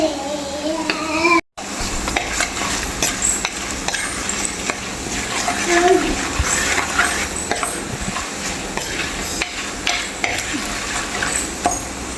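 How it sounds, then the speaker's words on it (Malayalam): Coconut milk fish curry masala is stirred in a pan with loud, continuous scraping and sizzling under occasional utensil clinks, close by, and a voice speaks briefly at the start. "ഞാനൊന്ന് ഇളക്കി കൊടുക്കാം നമുക്ക്"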